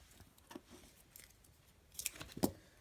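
Scissors snip and trim paper parts cut for a maths lesson. Soft, quiet cuts come first, then a few sharper, louder snips near the end, with no voices.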